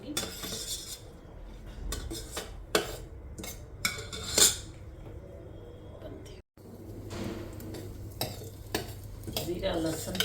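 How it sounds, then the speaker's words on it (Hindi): Cumin, dry red chilli and garlic frying in an electric kettle, a steady close sizzle with a spoon scraping and clinking against the metal pot throughout, no talking. "दो मिनट इसको फ्राई करूंगी।"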